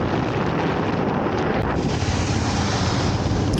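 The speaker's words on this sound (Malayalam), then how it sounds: "ഇവിടെ ആണെന്നുണ്ടെങ്കിൽ നല്ല കാറ്റും ഉണ്ട്" Strong wind gusts steadily across a highway on the road to Munnar near Theni, a loud, constant rumbling buffet against the microphone with no talking.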